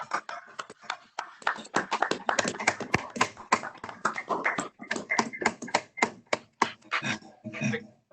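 Meeting participants at a board of directors meeting break into sustained applause, a dense crowd of hand claps rippling steadily for the full stretch with no voices over it.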